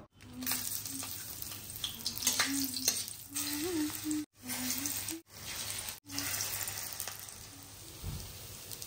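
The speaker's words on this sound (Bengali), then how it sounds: "আর দিকে তেলও গরম হয়ে গেছে, প্রথমে কয়েকটা শুকনো লঙ্কা ভাজবো।" Dried red chillies frying in hot oil in a home kitchen, a steady crackling sizzle with brief breaks and some clinking of a utensil, fairly close, no talking.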